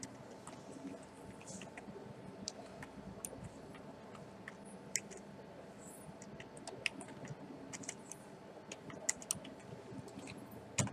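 Computer keyboard typing, soft and fairly faint, with scattered irregular key clicks over a low steady background hum, no talking.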